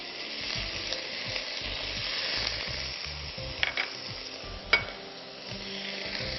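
Mustard seeds, onion, ginger, green chillies and curry leaves sizzle in hot oil for spinach soup, a continuous close frying crackle with stirring scrapes and a couple of sharp pan clinks, no talk.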